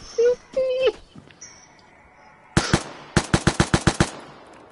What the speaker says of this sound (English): Sage, what are you shooting?